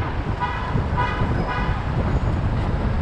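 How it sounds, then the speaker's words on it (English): Several car horns sound in New York City traffic, three or four short honks spaced about half a second apart over a constant low rumble of vehicles, close by. "Everybody's honking."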